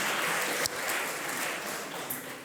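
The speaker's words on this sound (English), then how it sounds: "A round of applause to him as well." Sustained applause from a crowd at an award ceremony, steady clapping throughout with a brief louder burst partway through.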